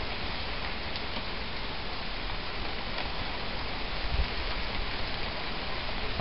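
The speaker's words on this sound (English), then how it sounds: "It's raining pretty good." Steady rain falls outdoors at Dead End Creek as wind picks up, a dense, even hiss of drops on surfaces that continues without a break from start to finish at moderate loudness.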